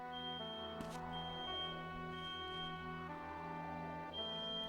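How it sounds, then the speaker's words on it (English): Fire alarm sounding in a Mizzurna Falls game scene, a steady electronic ringing tone held throughout with slight fluctuations, alone without talk. "One sec, the fire alarm just went off?"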